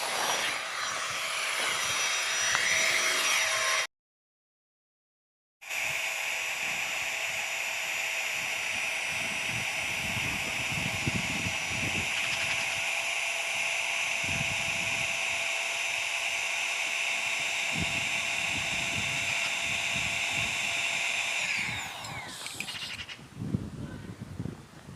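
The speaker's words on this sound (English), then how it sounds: "connect the pump itself, making sure you seal tight, and then double tap" FlextailGear Tiny Pump X electric air pump inflating, a loud steady close whine that cuts out briefly, resumes for a long run, then winds down and stops.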